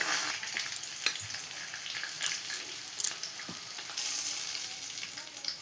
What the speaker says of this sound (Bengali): এদিকে আমার মাছ ভাজা হয়ে গেছে, একটা একটা করে তুলে নেব মাছ ভাজাটাকে